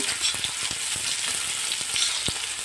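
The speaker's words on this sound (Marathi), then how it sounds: "कांदा थोडं परतवून घेऊया" Chopped onion sizzles and fries in a hot pan while being sautéed for a mixed vegetable curry, a dense continuous crackle with occasional stirring clicks.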